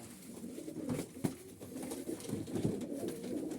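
A domestic pigeon, a white-winged female from a loft in Sivas, cooing in a low, soft, repeated throaty rumble, close but quiet, with faint background noise and no talk.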